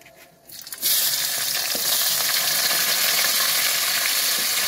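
Chopped onions hit hot oil already fragrant with bay leaf and dried chilli for a duck curry, setting off a sudden loud, steady sizzle that keeps hissing close by with faint stirring scrapes and no talk.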